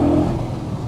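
An Audi RS4 B7 with a 4.2 V8 and Stage 1 tune drives through a short tunnel, its engine a loud, steady throaty drone with reverberant rumble throughout, no talk.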